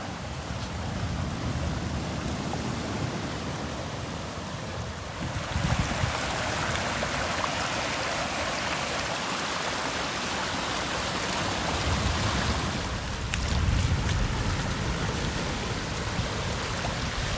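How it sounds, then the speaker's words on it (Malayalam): Seawater rushes across a broken tarred road where the sea is eating into the land, a steady close flowing roar that swells louder around the middle and again near the end, with no talk. "റോഡിനെ മുറിച്ചുകൊണ്ട് വെള്ളം ഒഴുകിക്കൊണ്ട് പോവുകയാണ്"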